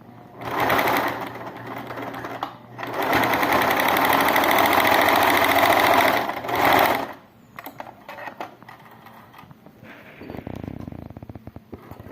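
A sewing machine runs in bursts, stitching fabric for a pink pig plush toy. Two loud, steady runs are separated by short pauses, followed by quieter, intermittent handling sounds near the machine.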